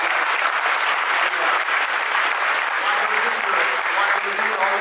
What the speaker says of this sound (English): Give everybody Bill a round of applause.